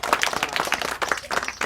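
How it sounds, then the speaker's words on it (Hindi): A community audience in a village in Azamgarh district, Hyderabad, claps at an outreach session, producing brief, lively applause of many close hands. The clapping is uneven and fairly loud throughout. "तो इनके लिए ताली बजाओ।"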